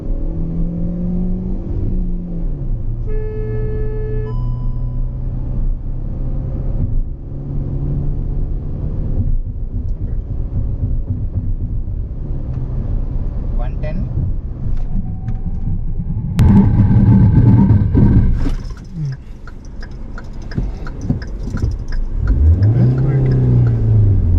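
A Hyundai i20 Sportz on a test drive accelerates, its engine note rising steadily over road rumble and cabin hum, with a voice heard at times.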